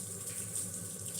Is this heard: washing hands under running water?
yes